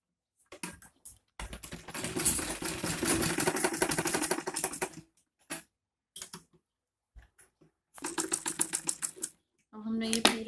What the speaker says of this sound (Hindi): अब हमने ये पूरे पे सिलाई लगा ली है